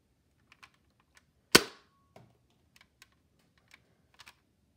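A Nerf Jolt toy blaster fires a dart with a single sharp, close snap, surrounded by faint small clicks and handling noises.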